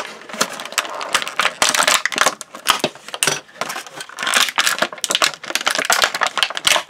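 Product packaging is torn open with loud, close crinkling, ripping and rustling bursts coming in rapid irregular succession, with no speech.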